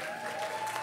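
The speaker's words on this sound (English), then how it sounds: "can you clap for them?" A brief burst of audience clapping fills a church service, dense and loud, with a sustained tone, likely from a keyboard, running beneath it.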